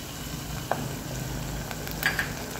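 Green masala paste fries with browned onions for jackfruit biryani, making a soft, steady sizzle with a few light stirring clinks against the pan.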